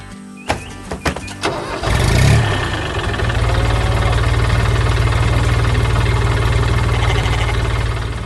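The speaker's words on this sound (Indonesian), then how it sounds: "Truk biru sedang berjalan melintasi ladang hijau yang luas dengan suara mesin yang riang." A cartoon blue truck's engine starts after a few sharp clicks and knocks, then settles into a loud, steady running rumble that holds to the end.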